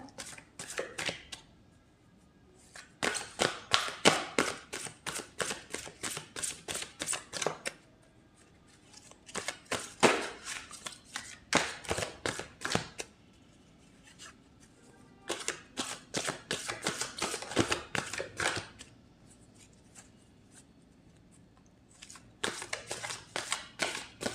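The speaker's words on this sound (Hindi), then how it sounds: "कार्ड और निकाल लेते हैं।" Tarot cards shuffled and drawn during a reading, giving repeated bursts of crisp riffling and flicking interrupted by short pauses, close and fairly loud, with no talking.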